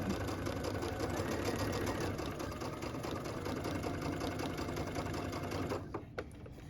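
A sewing machine stitches steadily along tape, its even, rapid mechanical hum running close and continuous for several seconds before slowing to a stop with a few light clicks at the end.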